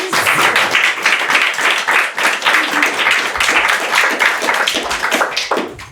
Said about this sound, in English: So maybe we could give Kathy a round of applause